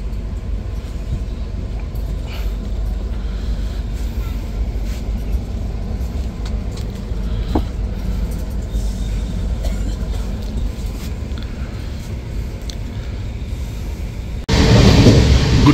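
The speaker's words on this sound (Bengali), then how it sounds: "আর আমাদের ট্রেন ডালখোলা ছাড়লো" Padatik Express pulling out of Dalkhola station on an overnight run, a steady low rumble of rolling coaches and rail noise running throughout, with a sudden louder burst of rushing noise near the end.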